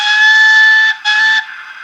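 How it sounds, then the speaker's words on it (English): A model steam locomotive sounds a long, steady whistle, briefly breaking before resuming, then fading into a soft hiss. "We have function 4, which is the whistle long."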